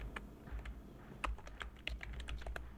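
Quiet, steady typing on a computer keyboard, light rapid keystrokes entering a word into PowerPoint, close by with no talking.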